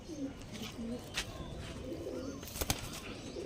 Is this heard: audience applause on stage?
no